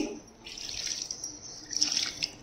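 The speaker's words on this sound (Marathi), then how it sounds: "त्याच्यामध्ये पाणी टाकत आहे मी" Water is poured into a pot of mutton trotters for a Saoji-style khur dish, a steady splashing, trickling stream heard close up that swells louder toward the end.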